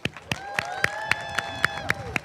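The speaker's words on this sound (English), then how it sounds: "Let's give a big round of applause for Principal Blackman." Slow, isolated claps at an even pace, about nine sharp hand claps from a small number of people at a high school ribbon cutting ceremony, fairly close, with faint background murmur.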